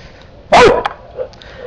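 A pet dog named Duke gives a single loud, close bark in a house's backyard, joining another dog that lives a couple of houses down, with fainter noises trailing after.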